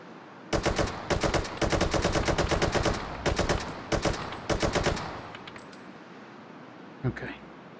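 Rapid automatic gunfire in the VR shooter Hot Dogs, Horseshoes & Hand Grenades comes in several loud, crisp bursts over about four seconds, followed by quiet and a single dull thump.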